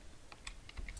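Keystrokes on a computer keyboard while entering terminal commands, a handful of quiet, separate clicks at an uneven pace, close and faint with no voices.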